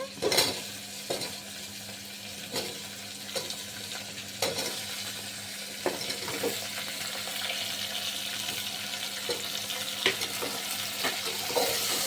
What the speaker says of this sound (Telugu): బాగా కలిపేసుకోవాలి. తర్వాత ఇప్పుడు దొండకాయలు వేసేసుకున్నాము.